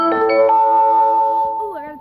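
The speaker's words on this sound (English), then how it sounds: "Oh, I got a text message." Phone alert chime outdoors on a windy day: a short sustained tonal chime with several steady harmonic tones lasting over a second, then a brief descending tonal slide, clear and close.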